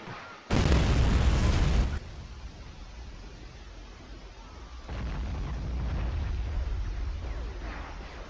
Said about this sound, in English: Now that we use the artillery cannons.